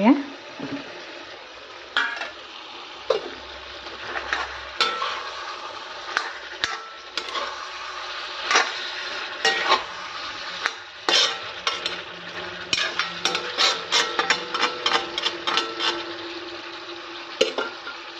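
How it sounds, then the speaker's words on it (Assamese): Potatoes going into chicken curry in a hot pan, stirred with a utensil that scrapes and clinks repeatedly over a steady close sizzle of frying, the stirring growing busier and more rhythmic toward the end. "এইফালে মাংসত আলু দি দিম এতিয়া।"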